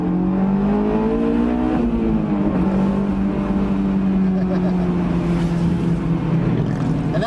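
A 2004 Honda S2000 accelerates hard from inside the cabin, its engine note climbing steadily through the revs, dipping briefly at a gear change, then rising again, loud and continuous.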